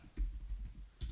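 Computer keyboard typing of a short message, a few quick soft key clicks close by with a louder cluster of keystrokes near the end.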